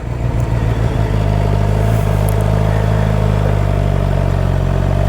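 A motorcycle engine revs hard and steadily in first gear as the rider works the clutch to pop a wheelie, loud and close, a sustained mechanical drone with no talk.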